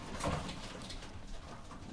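Racing pigeons cooing, including a bird bred from the Schumacher line, with a soft low coo early on over a steady noisy background of a pigeon loft.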